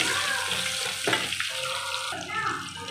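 Peanuts and onion frying in a pan after cumin, a close, wet hiss mixed with a watery splash-like rush and a sharper burst midway, continuous with no talking.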